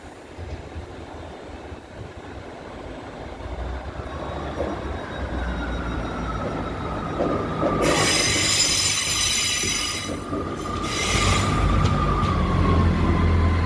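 A Northern class 158 diesel train pulls into Leeds station, its wheels squealing loudly and shrilly as it slows, over a low rumble and station ambience.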